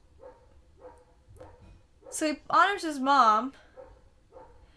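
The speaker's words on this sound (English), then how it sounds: "I'm so sorry about the dogs. I can't do anything about them." Small dogs bark and yip in a loud burst of several sharp calls midway through, rising over a woman's faint speech that runs before and after.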